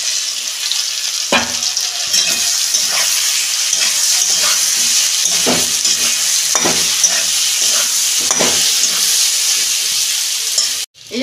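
Besan-coated cauliflower deep frying in oil in a karahi, a loud, continuous close bubbling sizzle with occasional stronger bursts and stirring clatter, cutting off abruptly at the end with no talk.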